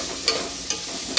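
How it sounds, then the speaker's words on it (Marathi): Onion frying in oil gives a steady close sizzle, broken by three quick scraping strokes of a stirring spoon against the pan. "चांगल्या प्रकारे हा कांदा लाल होईपर्यंत हलवून घ्यायचा."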